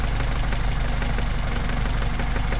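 A Mercedes 190SL engine with a Solex sandcast carburetor idling steadily on test with a rough, pulsing rumble and constant mechanical vibration, close and continuous throughout.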